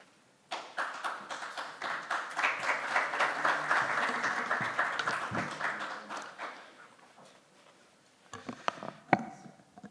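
Audience at a business debate event applauding as a speaker is introduced, clapping that swells and fades over several seconds, followed by a few scattered claps and taps.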